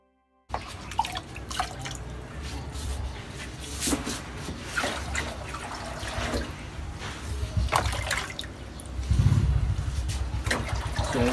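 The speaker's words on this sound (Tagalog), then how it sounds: "Magdadagdag muna ako ng tubig." Water being poured into a homemade Kratky-method hydroponics grower box holding seedling plugs, a continuous trickling, splashing flow that swells louder toward the end, close by and steady.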